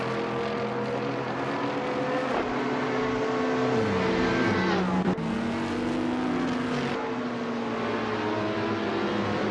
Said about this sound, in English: Nuts is driving a 2016 Ligia JSP3